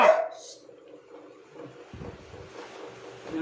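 A dog gives a short bark at the start, and a few faint yips and rustles follow in an otherwise quiet kitchen, with no talk over it.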